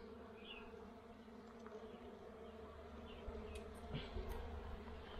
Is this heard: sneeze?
no